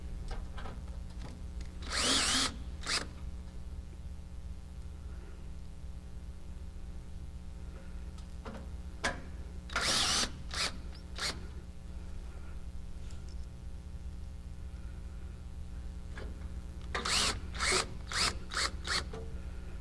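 A power drill drives screws to reattach an L bracket while an Aprilaire 1610 air cleaner is installed, with three short separate bursts of whirring over a quiet, humming room.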